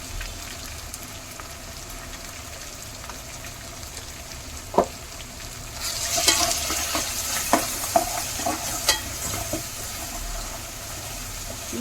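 Ingredients for a chicken gravy curry fry steadily in a pan with a constant close sizzle, broken by a few sharp stirring scrapes and clinks in the middle, with no talking.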